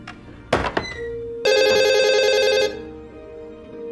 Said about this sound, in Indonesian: tiba-tiba telepon rumah itu berbunyi